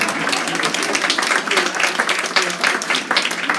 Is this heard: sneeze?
no